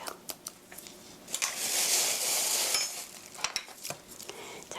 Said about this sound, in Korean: 자, 고루 저어주세요. 이렇게 하면 밀가루가 익반죽이 되면서 반죽이 굉장히 부드러워요.